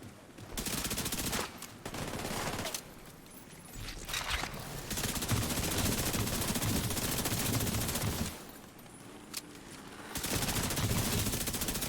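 Gunfire in The Division 2 video game: long, dense bursts of automatic fire roar loud and close, broken by a few short pauses.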